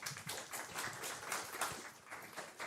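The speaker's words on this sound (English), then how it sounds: "Now you can clap." Audience clapping at a WarsawJS meetup, a steady patter of many hands at moderate distance, fairly soft, with no talking over it.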